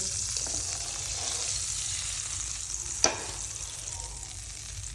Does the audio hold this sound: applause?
no